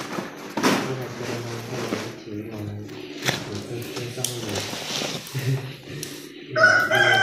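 A chicken crows over a busy background of people talking, its drawn-out call rising and falling across several seconds, with a sharper cry near the end.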